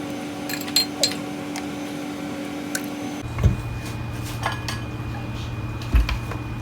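A utensil clinks and scrapes against a bowl while an egg, milk and oil mixture is stirred, with a couple of louder knocks against the bowl over a steady background hum.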